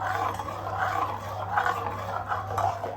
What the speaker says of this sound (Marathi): सतत आता हे ढवळत राहायचं आहे